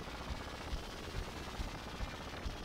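Rapid gunfire from the Sega Genesis game Ranger X, quiet bursts of repeated shots, some close together, over continuous game background noise.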